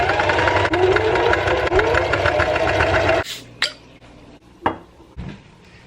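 A sewing machine stitches a patch onto fabric in an apartment, a fast steady mechanical whir for about three seconds before stopping, followed by a few scattered clicks and clunks.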